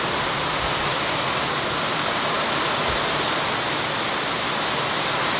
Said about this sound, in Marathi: पावसाचं नाव काढलं आणि पाणी सुरू झालं.